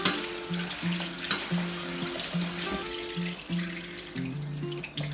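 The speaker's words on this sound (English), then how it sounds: "Place the tapioca pearl on a strainer. See guys. And then rinse. We have to wash off the starch." Tapioca pearls being rinsed in a strainer under running tap water, a steady splashing stream with faint trickling, close and moderately quiet throughout.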